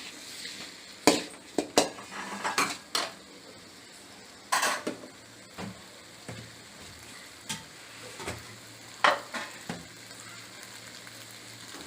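Chilli chicken fries and is stirred in a pan for a restaurant-style dish, with repeated sharp metal clinks of a utensil against the pan over a low steady sizzle, alone and close.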